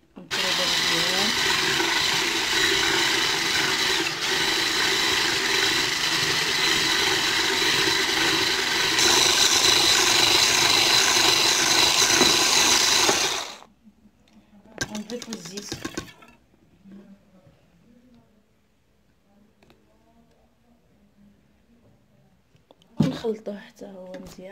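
An electric hand mixer beats orange madeleine batter with sugar, a loud, steady whirring drone for about thirteen seconds before cutting off, followed by quiet scattered clatter and a few soft knocks.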